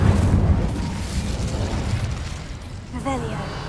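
Incendio fire spell cast in the Hogwarts Legacy video game, a loud burst with a roaring, crackling rush of flame that fills the clip, with a brief rising chime near the end.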